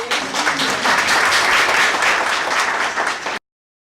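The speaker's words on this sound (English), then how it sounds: "Can we please clap?" Audience clapping during a talk on countering gender-based violence and discrimination: loud, dense applause rising quickly and holding steady for about three seconds before cutting off abruptly into silence.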